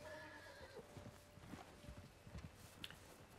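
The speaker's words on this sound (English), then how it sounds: "Call the horse to get its attention." An Arabian horse in Red Dead Redemption 2 gives a faint whinny amid soft clip-clopping hooves, with a brief high squeal near the end, all quiet and mid-distance.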